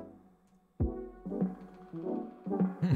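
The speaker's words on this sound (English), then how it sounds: "Air horn plays before a very chill beat." A single air horn sound effect blasts in with a bright, sustained harmonic tone, followed by further horn-like stabs over a chill electronic beat.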